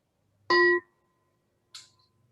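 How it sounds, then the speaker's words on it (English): A meditation bell is struck to open a Zen talk: one clear, ringing strike, then a second softer tap a moment later, both short and heard alone in a quiet room. "Let's begin with the bell."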